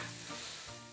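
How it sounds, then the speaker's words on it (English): Mushrooms and onion sizzle and fry in a pan, a close, steady hiss with a brief stirring rustle, heard alone and fairly quiet. "separately frying some mushrooms and onion"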